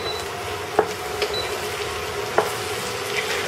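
Onions sizzle steadily in a hot pan while kosha mangsho is being cooked, a soft constant frying hiss broken by a few light clinks of a spoon stirring against the pan.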